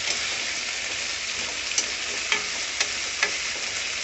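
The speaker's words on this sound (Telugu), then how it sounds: "బాగా వాసన వచ్చే వరకు వేగనియ్యాలండి" Spices for mint chutney fry in a pan, giving a steady, close sizzle with a few light clicks and scrapes as they are stirred, and no talking.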